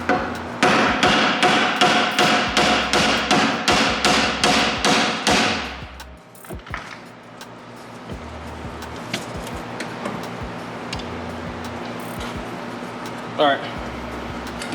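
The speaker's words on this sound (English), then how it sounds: "Then hammer the ball joint." Rapid, heavy metallic hammer blows pound a ball joint on a Chrysler 300 Scat Pack 392 in a garage, a quick burst of around a dozen close strikes, then shop noise, small clanks and someone talking.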